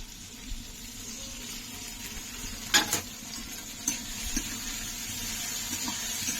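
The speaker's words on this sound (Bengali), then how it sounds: "এবার আমি মশলা দিয়ে দেবো এটা আদা জিরে রসুন লঙ্কা সব বাটা আছে" A ground paste of ginger, cumin, garlic and chili fries with softened onion and tomato for a pond-snail curry, making a faint, steady sizzle broken by a few scraping stirs and a clatter, no talking.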